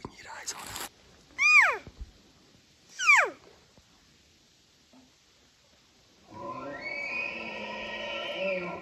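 Bull elk bugling in Utah hunting country, with two distinct high, rising-then-falling whistled calls at a distance, followed by a lower, sustained hum-like grunt sequence in a quiet outdoor setting.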